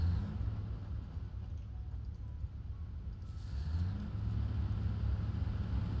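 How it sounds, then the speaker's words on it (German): Fuel-powered generator motors spinning up in the factory game Satisfactory, a steady low truck-like rumble that grows slightly louder midway and holds on its own without speech. "weil hier die Motoren anlaufen."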